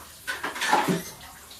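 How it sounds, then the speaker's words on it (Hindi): A ladle is wetted with water while cooking besan chilla, a short splashy trickle and slosh close by, lasting about a second. "देखिए ये मैंने कलछुल पानी से गीली कर ली।"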